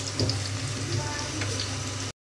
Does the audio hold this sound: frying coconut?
yes